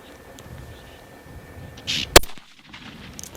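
A single sharp gunshot cracks loudly during a hunt, aimed just in front of an animal's shoulder, standing out against quiet outdoor background noise with a short tail of echo.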